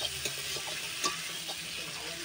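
Fish curry masala sizzles steadily while being sautéed in a pan, with a constant frying hiss and occasional stirring scrapes close up.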